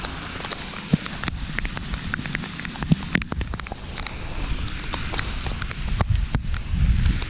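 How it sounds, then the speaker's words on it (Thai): Rain patters steadily on a surface at Khao Kamphaeng, Chaloem Rattanakosin National Park, Kanchanaburi, Thailand, a dense crackling wash with scattered sharper drops and a low rumble underneath. "ฝนตกครับ"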